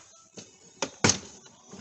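Prying a trim panel off a Range Rover L322 door from the bottom gives three sharp close snaps and thunks, each louder than the last, over quiet handling noise.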